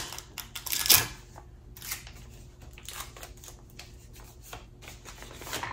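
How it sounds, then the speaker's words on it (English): Adhesive tape pulled and pressed onto the corners of a shipping package, close crinkling and ripping sounds with a sharp tearing peak near the start, then softer rustling. "I'm gonna add a little bit of tape on the corner"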